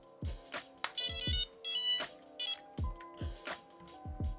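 A drone powering on after a motor repair gives a series of short electronic beeps and tones in an irregular pattern, including rising chirps and a few longer high-pitched melodic blips, fairly close and clear.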